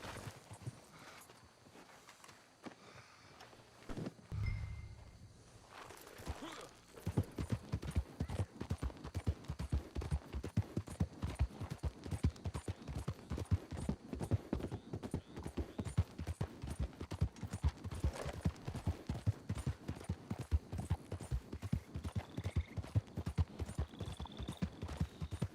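Hooves of a horse-drawn wagon in the Red Dead Online video game clip-clop steadily at close range in a fast, even rhythm, with no talk over them.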